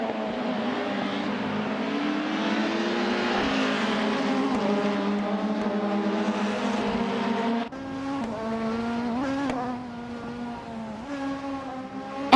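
Race car engines in a racing video game, a steady whining drone with rising and falling pitch as the cars accelerate and shift, fairly loud and continuous.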